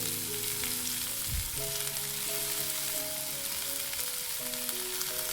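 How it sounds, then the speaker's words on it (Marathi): Chopped dill leaves sauté in wood-pressed peanut oil in a kadai over a medium flame, giving a soft, constant sizzle with a faint low hum in the background and a single dull knock; no speech. "आता मीडियम फ्लेमवरतीच आपल्याला इथं शेपूची भाजी परतून घ्यायचं आहे."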